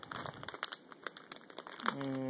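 Crinkly plastic wrapper of a My Little Pony blind bag being handled and pulled open, a run of close, rapid crackles ending in a brief tonal sound.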